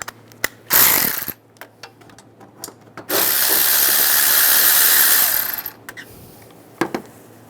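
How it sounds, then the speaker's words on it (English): Ratchet with a 13mm socket working an alternator bolt loose on a 1998-2010 Volkswagen Beetle, heard as a short burst of whirring near the start and then a longer steady run of several seconds, set among scattered clicks and knocks. "we'll take this bolt out using the 13mm socket"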